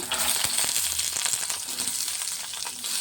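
Onions, tomatoes, ginger, garlic and green chillies sizzle steadily in a hot kadai while being stirred, a continuous close frying hiss with occasional scraping, no voices.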